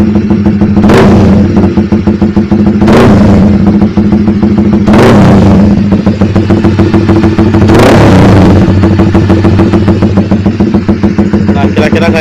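Honda Sonic 150 motorcycle with a Pro Liner TR1 aftermarket exhaust, no dB killer, revved four times in short sharp bursts over a loud, close idle, each blip rising and falling quickly.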